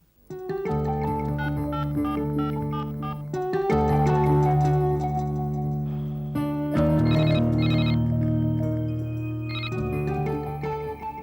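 A telephone in a Hindi TV drama rings with a melodic electronic ringtone, close and steady. The tune loops in repeating phrases for several seconds with no talking.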